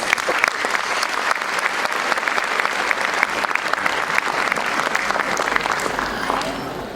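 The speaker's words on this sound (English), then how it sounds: "So parents, let's welcome them with a big round of applause." Parents give a big round of applause welcoming young students at a preschool class presentation, crisp dense clapping that carries on steadily for several seconds with faint voices underneath.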